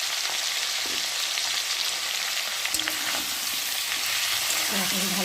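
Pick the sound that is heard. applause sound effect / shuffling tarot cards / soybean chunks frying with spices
soybean chunks frying with spices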